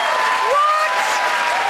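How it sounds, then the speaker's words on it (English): Studio audience clapping in a played cooking show clip, a steady, full round of applause heard loud and close, with a faint tonal voice or whistle-like sound sliding through the middle. "Stop clapping."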